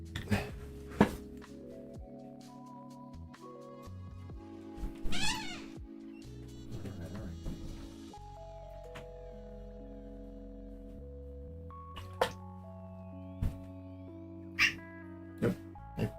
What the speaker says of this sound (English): I hear my cat meowing.